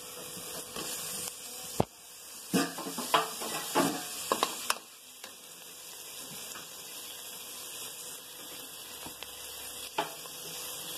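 Tomato paste hits a hot pan for a Tamil-style cooker kuska, giving a steady broad sizzle and hiss with a few sharper spatters and stirring scrapes early on, then settling into continuous frying noise.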